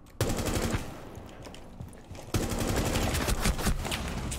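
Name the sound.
gunfire in the video game Rainbow Six Siege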